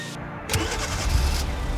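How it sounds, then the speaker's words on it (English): A 2012-2017 Hyundai Azera engine is started by a remote starter, a brief cranking whir catching into a steady close idle hum, with no voices. "And here you go, the car started."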